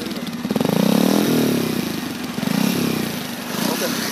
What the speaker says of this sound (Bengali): এবার এক্সস্টার সাউন্ডটি শুনিয়ে দেবো